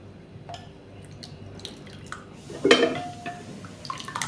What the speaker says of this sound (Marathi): इथे एक वाटी पाणी घेतलं आहे आपण अर्धी वाटी घालूयात